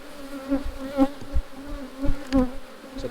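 Honey bees buzz steadily around an open hive during an inspection. The humming is close and wavers in pitch as individual bees pass near, with nobody speaking.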